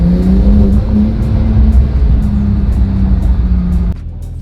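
A 2022 Porsche 992 Turbo S engine on its first drive, a steady loud low drone with a faint humming tone that drops off abruptly near the end.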